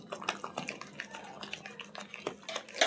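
A metal kadai, an Indian wok, is lifted and set down in a home kitchen with several light clanks and scrapes, close and moderately loud. No voices accompany it.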